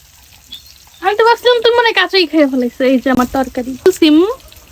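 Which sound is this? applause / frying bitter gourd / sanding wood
frying bitter gourd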